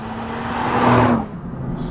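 Nissan GT-R Nismo on a race track, its engine note rising with a steady drone and whir, swelling louder near the middle before easing off.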